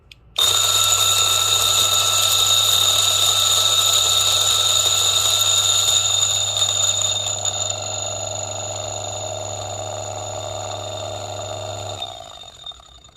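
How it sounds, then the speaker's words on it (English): A DF64 coffee grinder fitted with an anti-popcorn mod grinds beans, giving a loud, steady motor whine over a low hum for about twelve seconds before spinning down. "So let's try to see how it grinds."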